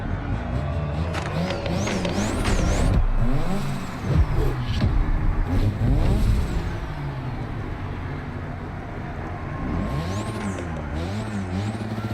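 Car engine in The Crew Motorfest during a drift event, a loud continuous roar with rising and falling revs and whining pitch sweeps, steady and close throughout.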